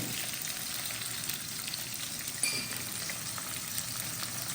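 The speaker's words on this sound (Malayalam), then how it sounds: "അപ്പോൾ ഇതിനകത്ത് നമ്മളിനി ഉള്ളി അരിഞ്ഞത് ഇടുന്നു" Chopped onion frying in a pan with spices, a steady close sizzle with a faint clink, no voices.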